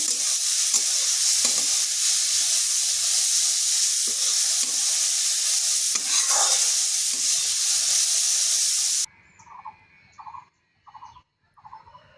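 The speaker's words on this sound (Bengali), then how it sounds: "গাজর কুড়াগুলো হালকা ভেজে নিচ্ছি, খুব বেশি ভাজবো না" Grated carrot fries lightly in a pan with a loud, continuous sizzle and occasional stirring scrapes, which then cut off abruptly to leave a few quiet, separate knocks.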